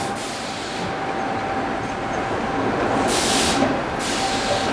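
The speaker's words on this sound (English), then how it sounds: "That's the sound of the loaves being sucked out of the baking tins." Bread loaves sucked out of baking tins by bakery machinery, a loud steady mechanical rush with a faint whine and two bursts of hissing air, like a passing steam train.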